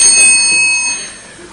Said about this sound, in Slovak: Zvoniť budem ja. Ja som predseda.